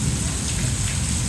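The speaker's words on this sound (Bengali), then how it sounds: "এ সময় বৃষ্টি, প্রচণ্ড বৃষ্টি।" Heavy rain pours down at night during a thunderstorm with lightning, a steady, dense, loud hiss of falling water that continues without a break and without speech.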